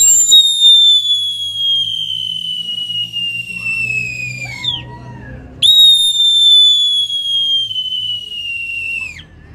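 A loud, high, sustained human whistle slides slowly downward, breaks briefly, then repeats, imitating the piercing call of a hawk or falcon, with a low rumble underneath, in Panchimalco, El Salvador.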